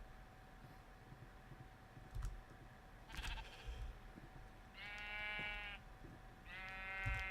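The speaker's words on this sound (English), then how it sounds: "we need to go down and release the sheepies in the pen" Sheep in Minecraft with the Feed the Beast modpack bleat in two clear, separate calls over faint background noise, with a few soft clicks and thuds between them.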